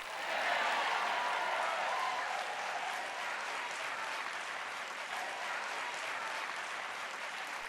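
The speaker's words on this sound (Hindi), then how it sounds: "तालियां बजाने में कोई कंजूसी ना करें।" Audience applause at a sermon, a broad continuous wash of clapping from a large crowd, sustained at an even level throughout.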